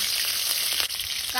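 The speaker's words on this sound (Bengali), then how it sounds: "কড়াইতে তেল দিয়ে দেব। তেলের মধ্যে দেব চেরা কাঁচা লঙ্কা" Slit green chilies sizzle steadily in hot oil in a wok, a dense, close frying hiss with no voices.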